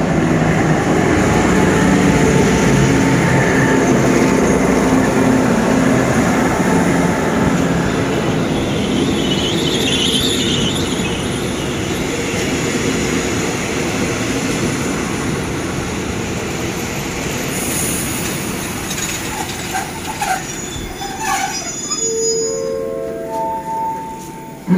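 An Alstom diesel locomotive hauling an ordinary passenger train rumbles steadily past Salaya station in Thailand, loud and continuous with wheel clatter, rising squeals and a brief horn-like tone near the end.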